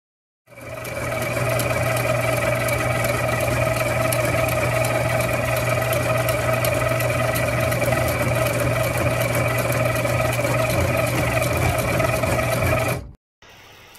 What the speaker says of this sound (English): Taking a bunch of straps of veg tan and sew them together to prove that it can sew leather